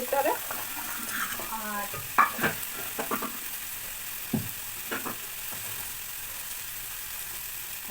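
Vegetables fry in a pan with a soft constant sizzle and scattered close scrapes and knocks of a spatula, while a voice speaks briefly over it.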